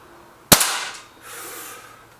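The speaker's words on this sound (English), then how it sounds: "It's shooting really well in the freestanding this time, is the SMK." SMK Mod19 air rifle firing a single sharp shot in a freestanding target setup, a crisp close crack followed by a brief metallic ring and the faint clatter of a target reacting.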